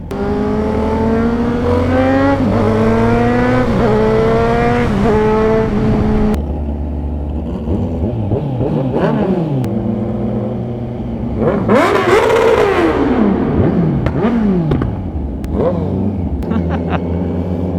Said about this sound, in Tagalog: Grabe, bumomba yung 10R.